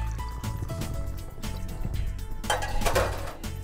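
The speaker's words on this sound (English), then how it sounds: "An opportunity for me to use a 2-hand bottle pour once again" Vodka and peach schnapps poured two-handed from bottles at a bar: a steady close liquid stream with faint clinks of glass and metal, rising slightly in intensity toward the end.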